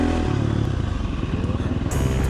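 Tokyo Mods Vortex ECU under test on a motorcycle, the engine revving hard and loud with a throbbing pulse, close by and steady, a brief higher whine near the end.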